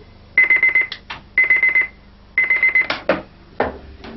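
An alarm clock rings at wake-up with loud, close, rapid electronic beeping in repeated bursts of several pulses, separated by brief pauses and followed by some clattering handling noises.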